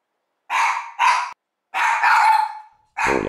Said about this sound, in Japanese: 急にものすごい吠え出しました。